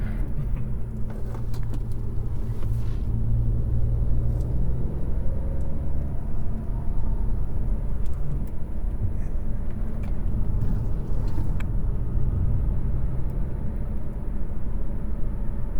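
A 2021 Acura TLX A-Spec SH-AWD drives a winding mountain road, heard from inside the cabin as a steady, loud low rumble of engine and road noise, with faint rattles and jangles on top and no talking.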